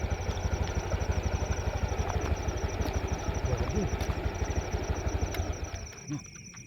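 A motorcycle engine idles steadily near a rice field with the steering lock engaged and the ignition unable to shut it off, a low rapid chugging that runs throughout and fades slightly near the end.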